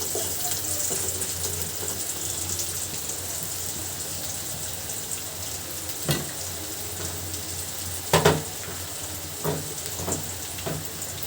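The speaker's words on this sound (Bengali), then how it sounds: "ডিম ভুনার জন্য আমি পেঁয়াজটা সুন্দর করে ভাজি করে নিব।" Onions frying in oil with a bay leaf and cumin, a steady close sizzle throughout, broken by a few sharp clinks of a spoon against the pan near the end.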